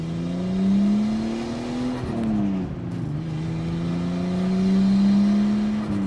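A Nissan R34 Skyline accelerates downhill on light throttle, its engine a steady, close drone rising in pitch, easing briefly midway, then climbing again without any talk.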